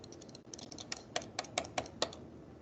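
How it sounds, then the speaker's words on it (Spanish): Someone types fast and hard on a computer keyboard, a string of sharp, close key clicks with a few louder strikes and short pauses between bursts, no speech. "Suave, con el teclado, que lo vas a romper."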